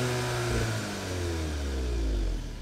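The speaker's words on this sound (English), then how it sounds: "I'll give this one a rev, see what the GTI sounds like" A Volkswagen Golf GTI four-cylinder turbo engine with synthetic exhaust sound revs while stationary, a close, loud rising and falling rev held against a soft limiter.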